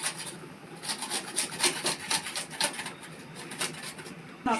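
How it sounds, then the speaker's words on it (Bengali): Onion gets chopped on a board in a quick series of close, scraping knife strokes, rhythmic bursts that pause briefly and resume, with faint birdsong in the background. "পেঁয়াজের কুচি করতেছে পেঁয়াজ কুচি করে নিচ্ছে"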